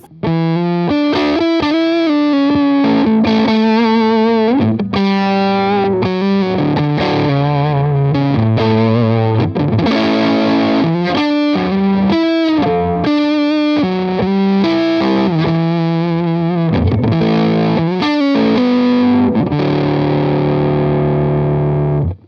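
Electric guitar through an Orange amp with a Tone King Imperial preamp at full gain, heavily saturated and fuzzy, played on the neck pickup as a continuous run of chords and notes, loud and close with no voices.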